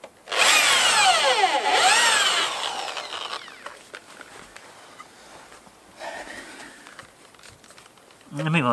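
A power drill whirs loudly into wood for a few seconds, drilling a pilot hole while building a fence, its pitch rising and falling, then quieter handling noises follow and a brief voice.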